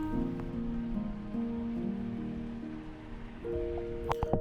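Rain falls steadily on a koi pond on a cold day, a continuous soft patter over water with a low steady hum running beneath it.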